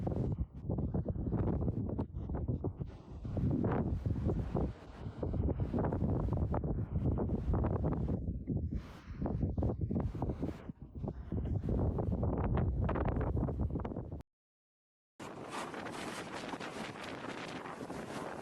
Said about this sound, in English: A ferocious windstorm is ripping through the city, rooftops flying, trees uprooted, debris swirling everywhere.